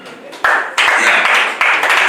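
Audience at a cooperative general meeting in Abuja claps in bursts that swell and fade, a loud dense patter of many hands close by, starting in pieces and rising in waves.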